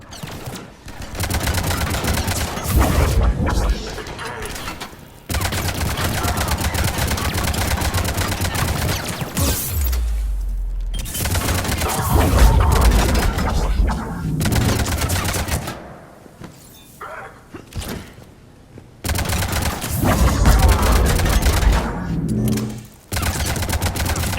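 Heavy gunfire in the video game Mass Effect 3: loud, rapid bursts and sustained automatic volleys that cut off sharply between bursts, with near-continuous shooting through most of the stretch.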